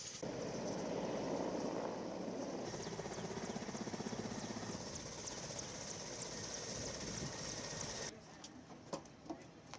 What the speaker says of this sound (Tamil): இந்திய விமானப்படைக்கு சொந்தமான ஹெலிகாப்டர் ஊடாக மாத்தலை நாகலாவில் பகுதியில் சிக்கியிருந்தவர்களை மீட்கும் பணிகள் முன்னெடுக்கப்பட்டிருந்தன